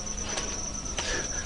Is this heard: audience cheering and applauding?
no